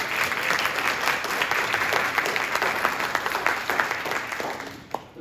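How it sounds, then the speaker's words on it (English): An audience at a wellness-themed gathering applauds the staff being introduced, producing a sustained, fairly dense round of clapping that slowly tapers off toward the end. "let's give them a round of applause"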